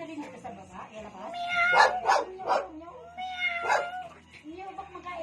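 A person's voice imitates a cat, giving a few drawn-out meows in a row during a Filipino animal-sounds game, with other people talking around them.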